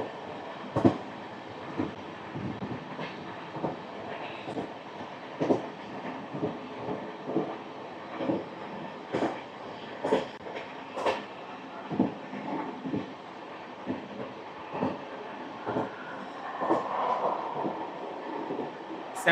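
The Deccan Queen Express, train 12124, runs from Pune Junction toward Mumbai through the Western Ghats. A steady rolling rumble carries irregular clickety-clack wheel knocks over rail joints, heard from inside or close to the moving coaches.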